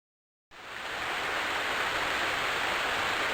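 Waterfall in the King's Quest 5 video game: steady broadband rushing water that starts abruptly and holds at an even, full level with no talk.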